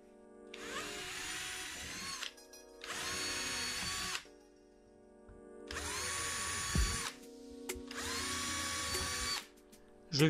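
Power drill boring pilot holes for screws in wood, depth-set with a jig, while building a custom sliding shoe cabinet under a staircase: four sustained whining bursts of about a second and a half each, separated by short pauses, loud and close.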